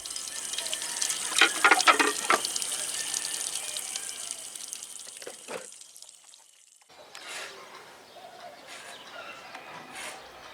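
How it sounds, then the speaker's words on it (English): Dishes being washed under running water at an outdoor balcony sink in a barrio of Oaxaca, with gray water draining to plants; a steady gush of tap water with clinks and splashes, stopping briefly before resuming more faintly. "I enjoyed washing the dishes on the balcony."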